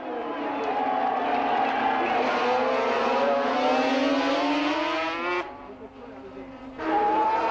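Honda Rothmans Grand Prix motorcycles at an 80s-era race, loud high-pitched engine notes rising and falling as bikes pass close by, then briefly dropping away before another machine screams in, with commentary over the top.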